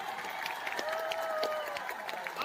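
Audience applause and crowd noise at a meeting event in Dubai. Scattered claps pop over a steady murmur of the crowd, with a thin sustained tone running through the middle, all at moderate distance.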